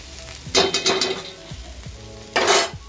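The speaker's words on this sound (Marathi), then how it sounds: "आता आपला कांदा भाजत आलेला आहे" Onion roasting in a pan for misal, giving a steady low sizzle with a few louder stirring bursts of spoon scraping the pan, close by and with no talk.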